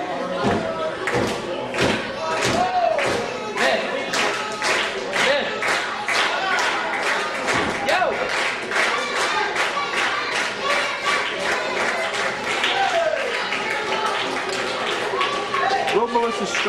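Wrestling crowd at a Mercedes Martinez vs Melissa Stripes match cheering and clapping for Melissa Stripes, steady rhythmic claps and thuds throughout with a commentator talking over it.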